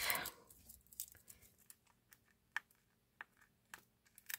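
Quiet crinkling and scattered sharp crackles of tape being peeled from plastic wrapping on a package of stones, irregular bursts close by with no talking.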